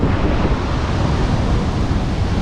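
The roar of the roughly 45-metre Düden waterfall in Antalya, Turkey, a loud, dense, unbroken rush of falling water heard up close with no voices.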